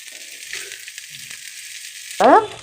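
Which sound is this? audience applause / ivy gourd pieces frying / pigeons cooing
ivy gourd pieces frying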